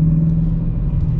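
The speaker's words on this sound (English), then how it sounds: "I can just cruise and just listen to the low rumble of the V8" Low, steady rumble of a Dodge Challenger T/A V8 engine cruising, a brief close droning hum with no voices.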